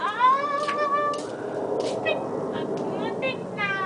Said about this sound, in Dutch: waar is Poesie nou? Ah, Poes. Kom, Poes.